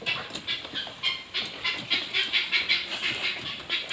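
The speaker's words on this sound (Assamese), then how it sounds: "তো আমি এতিয়া স্প্ৰে মাৰি আছোঁ বীজাণুনাশক।" Disinfectant spray hisses in rapid, rhythmic bursts at a poultry farm, a close, steady pulsing series of sprays with no talk.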